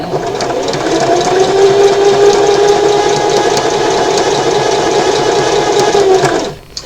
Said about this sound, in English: just sew straight down that line